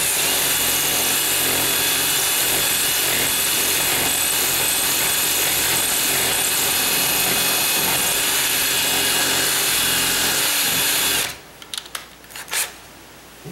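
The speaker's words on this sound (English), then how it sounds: "Now I can use the angle and kinda ream on the side here." A power drill reams a wooden door frame to enlarge the deadbolt strike plate opening, running as one loud, continuous whine for about eleven seconds before cutting off, followed by a few brief clunks.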